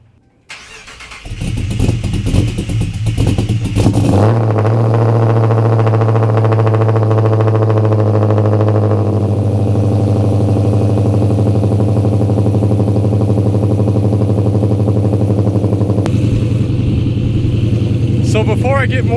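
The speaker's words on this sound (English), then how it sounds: "let's get a cold start first" A Dodge Charger R/T V8 with an aftermarket cam, running on E85, cranks and fires into a loud, rumbling cold-start idle that holds steady, with a brief drop in pitch partway through.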